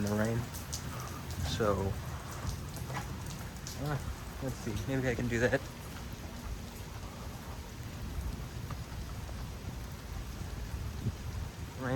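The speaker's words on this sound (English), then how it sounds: "Rain seems to be not so super heavy right now." Steady rain falls at night during a lightning storm in Houston, Texas, a soft continuous hiss with a person speaking quietly near the start.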